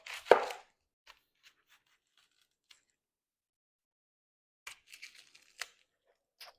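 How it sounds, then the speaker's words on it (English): Knife slicing the non-root end off an onion, one crisp loud cut at the start followed by faint scattered crackles and a few light papery peeling and knocking sounds later, close and otherwise quiet. "take the non-root end, cut it right off"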